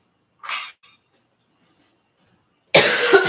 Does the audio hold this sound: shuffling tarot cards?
no